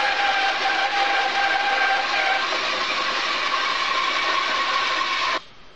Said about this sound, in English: The little 1/3 horsepower motor that I started my experiments with is not quite strong enough for this one.